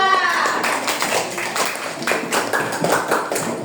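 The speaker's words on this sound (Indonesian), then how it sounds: "Oke, tepuk tangannya untuk kelompok 2." Students in a classroom clap for a group after its presentation on the water cycle, with brisk, distinct hand claps in a loose, uneven rhythm and some voices mixed in.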